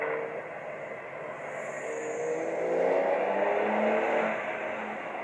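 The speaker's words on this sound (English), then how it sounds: "I like the sports exhaust system, my friends" Porsche 911 Targa 4 with a sports exhaust accelerates on a daytime drive, its engine note rising and swelling to a loud peak midway before easing slightly, with no talking.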